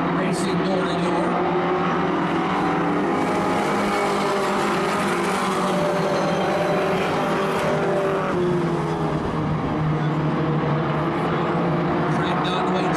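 Race cars on a Maine short track run side by side, their engines roaring loud and steady with harmonic drones rising and falling as they pass, under continuous commentary.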